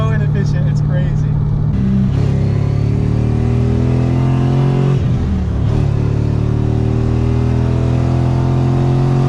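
A Mazda RX7 fitted with an LS1 V8 accelerating on back roads, a loud steady engine drone rising in pitch, heard from inside the car.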